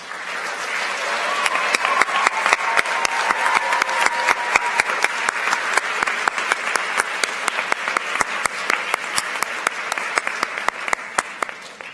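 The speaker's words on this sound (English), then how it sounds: "Honored vocalists, please rise to receive our applause" An audience at a school awards ceremony claps for honored vocalists, many hands in a steady, even round with a few sharper individual claps standing out near the front, lasting about twelve seconds without voices.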